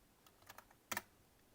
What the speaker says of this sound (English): We can just type it in.